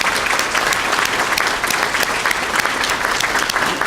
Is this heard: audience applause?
yes